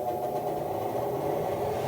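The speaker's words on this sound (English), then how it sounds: "We'll plug in the exhaust fan." The exhaust fan of a Boss LS3655 laser cutter runs with a steady, loud mechanical hum and whir that holds constant throughout, with no voices.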